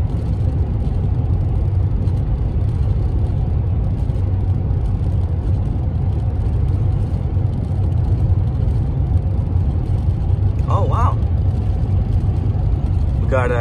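A Union Pacific freight train passes by with a steady, loud low rumble and rolling roar that holds constant throughout, with a brief high squeal or horn-like tone near the end.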